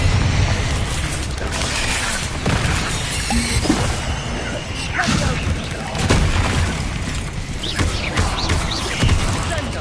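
Confringo blasting spells explode again and again in Hogwarts Legacy, a run of loud booming bursts and crackling impacts over steady battle noise, with a voice talking at times.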